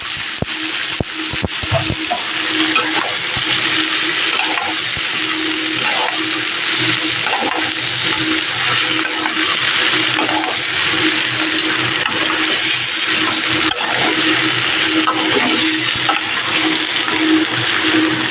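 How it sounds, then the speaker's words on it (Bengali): Chunks of bottle gourd tossed into a hot pan with prawns and stir-fried, a steady loud sizzle of oil and moisture running throughout with scattered clinks and scrapes of a spatula against the pan. "লাউগুলো দিয়ে দেবো।"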